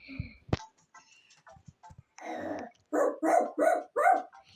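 A dog barks four times in a quick, loud series close by, after some quieter clicks and a short low rumble.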